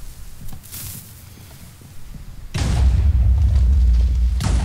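A deep booming TNT explosion in the video game Minecraft (Hexxit modpack) hits suddenly and rolls into a sustained loud rumble, with a second blast breaking in near the end.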